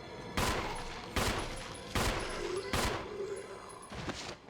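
Gunfire from the survival-horror game Resident Evil: five heavy shots spaced roughly a second apart, each a loud broadband blast with a ringing tail, under low background game ambience.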